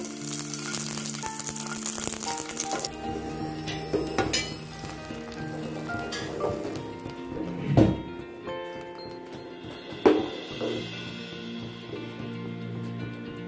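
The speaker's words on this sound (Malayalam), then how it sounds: "ഒരു സോസ് പാനിലേക്ക് നമ്മൾ കുറച്ച് ഗീ ഒഴിച്ച് കൊടുത്തിട്ടുണ്ട്. അതിൽ കുറച്ച് റൈസിൻസും കൂടെ ഇട്ട് കൊടുത്തിട്ട് അത് വറുത്തെടുക്കാം." Raisins fried in ghee in a saucepan crackle and sizzle steadily, with spoon stirs, clinks against the pan and a couple of sharper knocks. Background music runs underneath.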